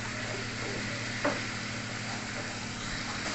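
Spice paste with chillies sizzles steadily in oil for a salted surmai fish curry while being stirred, with one brief scrape; the sizzle is soft and continuous and no one talks.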